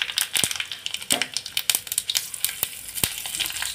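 Curry leaves, cumin and mustard seeds spit and crackle in hot oil for a coconut chutney, a dense close-up sizzle broken by sharp seed pops scattered throughout, with no talking.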